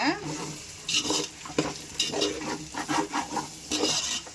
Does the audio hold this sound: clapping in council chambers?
no